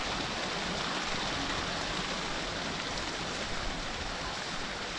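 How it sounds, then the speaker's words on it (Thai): Water rushes steadily from a waterfall in the Pa Bong Piang forest beside the rice terraces of Chiang Mai, a dense, even roar that holds for the whole stretch with no voices over it. "ได้ยินเสียงน้ำไหลตลอดเลย"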